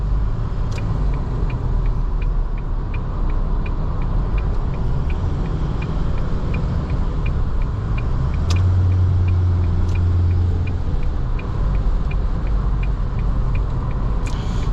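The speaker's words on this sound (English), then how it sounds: "You just lightly step on the gas pedal and you get immediate response." A 2022 Mazda BT50 4x2 pickup's engine drones steadily under a constant low road rumble from inside the cab while driving, with a faint ticking throughout and a slight swell in engine note midway.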